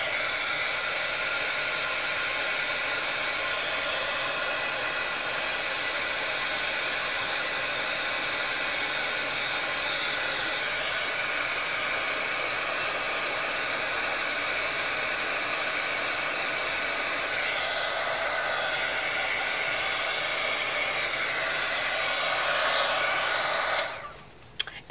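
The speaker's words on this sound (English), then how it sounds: "And then we can emboss this right here." A heat tool blasts a steady, loud broadband whoosh while embossing a paper tag, running continuously for over twenty seconds before cutting off abruptly near the end, with no talking.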